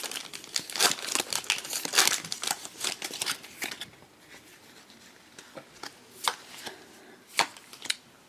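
Foil trading card packs being torn open and handled, a run of crisp crinkling rips and rustles close by, dense at first and then thinning to a few sharp isolated tears.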